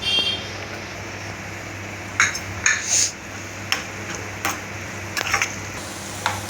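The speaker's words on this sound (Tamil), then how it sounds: "தேங்காய் போட்டு வறுத்துக்கலாம்." Coconut roasting in a pan for pumpkin payasam: sparse metallic clinks and scrapes of a spoon against the pan over a steady low hum, close and moderately loud.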